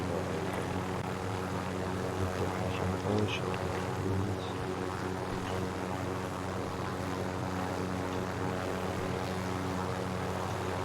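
Video game helicopter with a steady, droning rotor and engine hum that holds for the whole stretch, while players talk over it in German and Turkish.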